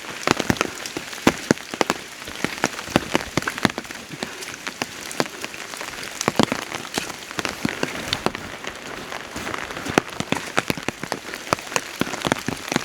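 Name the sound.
heavy rain during forest trek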